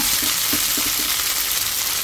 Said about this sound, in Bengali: এখন আমি সেমাইগুলো একদম ঢেলে দিব।